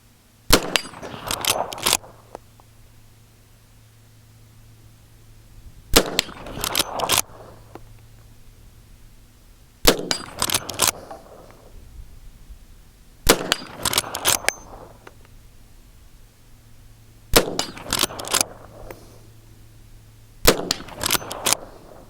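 Six single shots from a Chiappa 1892 Alaskan lever-action rifle in .357 Magnum, fired during load testing. Each is a sharp, loud crack with a short tail, spaced several seconds apart, with a low steady hum in the quiet gaps.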